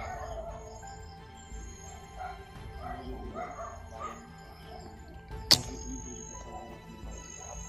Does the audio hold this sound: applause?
no